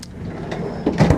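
A storage drawer in a 2026 Newmar London Aire 4551 Class A luxury motorhome slides and bumps shut, a short soft rumble ending in a firmer knock, close by in a quiet interior.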